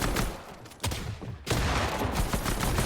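Rapid gunfire from a Fortnite match, a dense volley that surges at two points and keeps up nearly without pause, loud and close with no voices over it.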